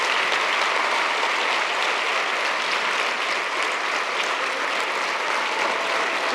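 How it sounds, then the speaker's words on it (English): Sustained standing-ovation applause from a large conference audience for Global Teacher Prize finalists, dense and even throughout with no breaks. "A standing ovation for them,"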